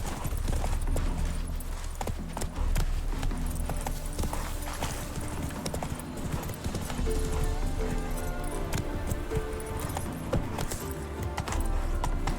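Horse hooves clip-clopping in a steady rhythm in The Witcher 3: Wild Hunt game, under dense, continuous game sound and music, with the horse ridden at a walking pace.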